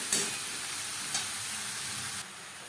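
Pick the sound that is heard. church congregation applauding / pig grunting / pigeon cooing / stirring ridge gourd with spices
stirring ridge gourd with spices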